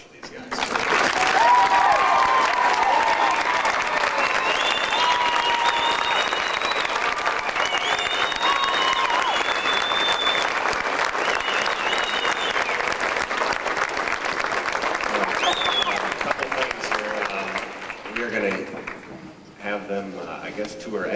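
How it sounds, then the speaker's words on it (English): Sustained rousing applause from a crowd at a celebration for a state championship high school soccer team, loud and dense for about eighteen seconds before thinning into scattered claps. "How about just one more rousing applause for these guys?"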